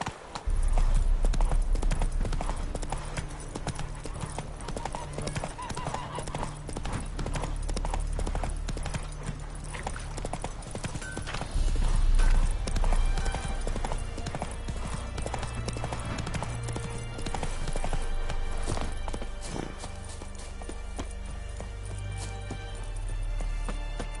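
Roach the horse gallops in The Witcher 3, with continuous rhythmic hoofbeats close and loud over a bed of game ambience and music, and a brief neigh mixed in.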